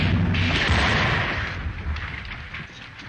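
A disintegrator pistol blast from a 1939 Buck Rogers science-fiction serial, a loud, rumbling, roaring burst that holds for a moment and then slowly fades, heard alone.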